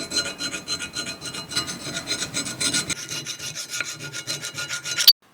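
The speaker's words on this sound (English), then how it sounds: "Last 2 pieces to be sanded before we put clear on." Brake caliper brackets for a Mercedes-Benz W205 C450 AMG are sanded by hand in a steady, close rasping rub of repeated strokes, ending abruptly.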